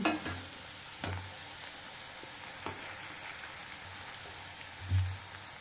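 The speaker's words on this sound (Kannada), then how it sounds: "ಈಗ ಎಣ್ಣೆ ಕಾದದ ಇವು ಕರ್ಕೊಳ್ಳೋಣ" Ridge gourd pieces frying in hot oil give a steady crackling sizzle, punctuated by a few soft knocks and stirring clatters, with one louder clunk near the end.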